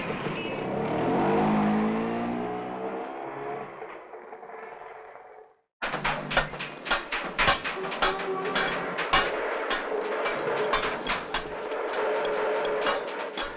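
A scooter pulls away, its engine note rising and then fading into the distance. After a brief gap comes busier traffic-like engine noise with sharp clicks.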